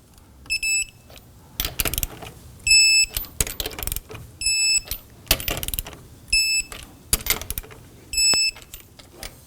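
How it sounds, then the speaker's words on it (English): Lug nuts on the rear wheel of a 2005-2009 Subaru Legacy being torqued to spec in a star pattern, with a series of rapid ratcheting clicks in short repeated bursts, close and fairly loud, separated by brief pauses. "You want to go ahead and torque down your lug nuts to 88 foot-pounds."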